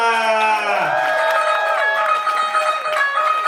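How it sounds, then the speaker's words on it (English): Wedding guests at a Punjabi Mauritian reception cheer and whoop for the bride and groom, loud crowd noise with high shouted voices over a sustained tonal background, close and energetic. "a massive round of applause, absolutely amazing. Give it up for Ash and Diksha!"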